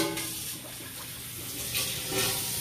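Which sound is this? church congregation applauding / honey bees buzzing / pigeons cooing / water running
water running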